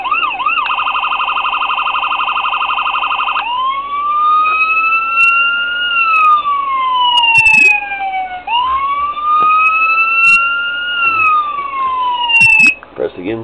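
A police siren on a custom Franklin County Sheriff Ford Crown Victoria: a fast steady warble first, then loud rising-and-falling wails that repeat as the tone mode changes, close and continuous, with brief clicks.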